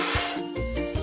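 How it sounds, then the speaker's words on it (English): A short, loud burst of hissing spray paint opens as a truck is painted in a kids' video game, then gives way to softer rubbing and tonal game sounds. "Let's paint over the discoloration."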